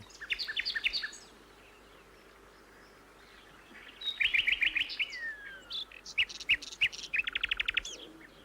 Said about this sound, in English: It's the strong and varied musical song of the nightingale.